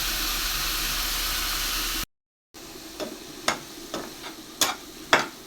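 Leafy greens with salt frying in a pan, a steady hiss and sizzle followed by a short gap and then sharp intermittent stirring scrapes and clinks, close and moderately loud.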